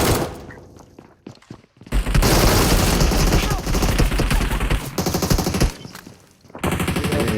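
Rapid automatic fire from an MK12 rifle in a shooter video game, with dense, loud bursts running for several seconds after a short quieter lead-in, then a brief lull before firing resumes.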